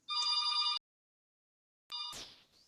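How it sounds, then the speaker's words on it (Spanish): A telephone rings during a dermatology class in two electronic trilling bursts, the first about a second long, then a pause and a shorter second ring trailing into a faint tone. "Una disculpa ahí por el teléfono."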